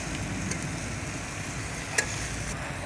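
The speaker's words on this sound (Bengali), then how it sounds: "এখন আমি ঝুলটা দিয়ে দিচ্ছি" Broth goes into a hot pan of soybean curry with potatoes and hisses into a steady, close, even sizzle, with a faint clink of a utensil and no voices.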